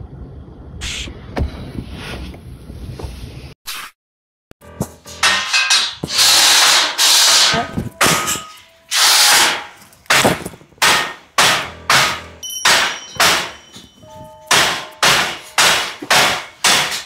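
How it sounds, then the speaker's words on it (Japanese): Scaffolding work: repeated scraping, knocking and metallic clanks, first rough rubbing noises, then a steady series of loud rhythmic strikes close by. "足場の音が聞こえてきました。"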